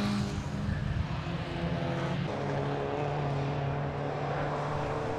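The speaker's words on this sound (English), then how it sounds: "Mark McKenzie up into 4th place in 924s." Porsche 924 race cars roar around the Rockingham circuit, a continuous loud engine drone with shifting pitch as cars pass at speed.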